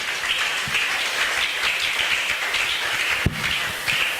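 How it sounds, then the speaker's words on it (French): A church congregation applauding and cheering at a sermon, a steady loud wash of clapping crowd noise with one sharp louder clap near the end. "Est-ce que tu peux acclamer fortement pour la gloire de Dieu?"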